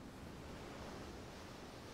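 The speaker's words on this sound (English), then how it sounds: "I hear the waves crashing." Ocean surf from the Umineko When They Cry visual novel rolls in as a steady, broad wash of waves, continuous and fairly soft, with no voices over it.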